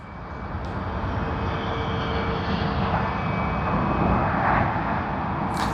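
An airliner departing Sydney Airport in daylight, a steady, fairly distant engine roar that holds evenly throughout with no talk.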